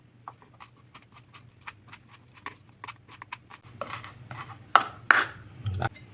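A knife shreds kaffir lime leaves on a cutting board, quick light taps in an irregular rhythm that grow louder and more clattering toward the end, heard close up with no talk.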